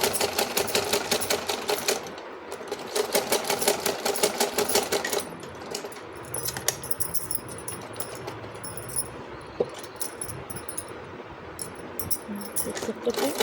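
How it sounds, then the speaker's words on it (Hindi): A sewing machine runs a long basting stitch on a sleeve, giving two bursts of fast, loud rhythmic whirring. Quieter rustling and handling noises follow under a steady background. "मशीन की सिलाई को बड़ा करते हुए पहले एक"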